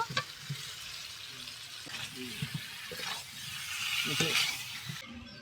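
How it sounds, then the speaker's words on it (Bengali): Already-fried new potatoes go into a pan of spiced masala cooked down until the oil separates, raising a steady close sizzle and hiss with a few soft stirring clinks and scrapes. "ভেজে রাখা আলুটা এখন দিয়ে দেব"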